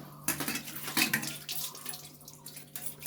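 Tap water runs and splashes in a home kitchen sink during washing up after cooking, with light clinks of dishes, close and fairly quiet in a short burst.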